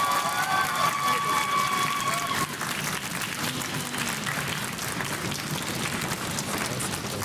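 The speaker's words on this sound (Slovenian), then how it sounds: "Dajmo en aplavz." An audience at a school quiz show breaks into loud, sustained applause, a dense wash of clapping that carries on evenly for several seconds, with brief tonal sounds early on.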